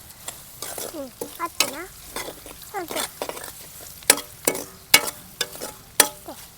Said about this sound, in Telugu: మంచిగా పోపు అయితే పెడుతున్నాం